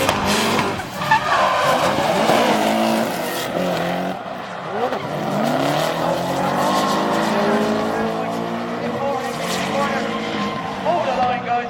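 Tandem drift cars at an IDC 2015 top 16 battle roar past with engines screaming and long, loud tire squeal, sustained throughout, while an announcer talks over the noise.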